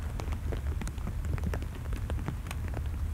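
Steady rain falls in a cemetery, a dense close patter of drops hitting nearby surfaces with scattered sharper drips throughout and no voices.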